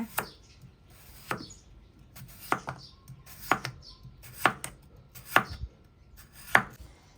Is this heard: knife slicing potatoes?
yes